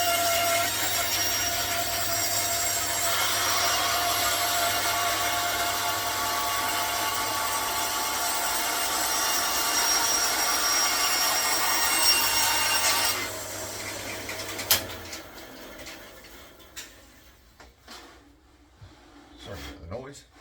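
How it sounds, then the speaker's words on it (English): Bandsaw running steadily as it cuts the end off a strip of wood for a zero-clearance circle cutting jig, a loud continuous whine and rasp that cuts out around fifteen seconds, leaving quieter workshop clatter. "this is where I have to turn the bandsaw on, and I'm just going to cut the end off it"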